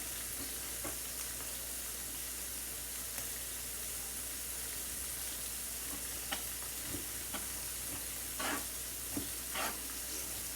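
Onions sizzle steadily in a hot pan, a constant frying hiss with occasional clinks and stirring scrapes, fairly quiet and with no talking.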